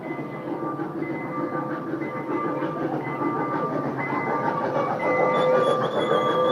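A mini train in Jerusalem coming in, its steady rumble and rail noise growing slowly louder, with tonal squeals and brake whines rising over the continuous roll.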